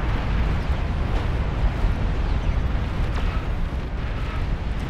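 A nuclear missile launch in the strategy game Beyond All Reason, heard as a loud, sustained roaring rumble that holds steady throughout with faint crackling bursts on top.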